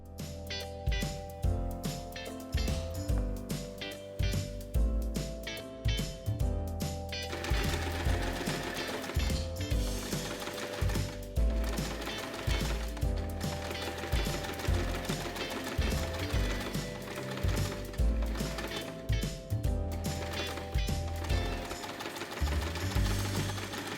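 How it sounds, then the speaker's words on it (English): A sewing machine stitches the corners of a fabric pouch with a steady mechanical whir, running in stop-start bursts over a continuous bed of musical tones. "Sew the corners again for a seamless finish."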